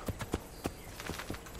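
Horse hooves clip-clop in Assassin's Creed II: about half a dozen sharp, uneven hoof strikes close by over less than two seconds, with faint background game ambience and no clear whinny.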